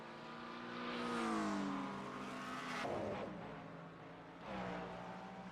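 Engine note of a BMW GT3 race car in the iRacing sim at Le Mans, a loud sustained roar whose pitch climbs and falls as it passes, with a second shift or engine surge near the end; no talking.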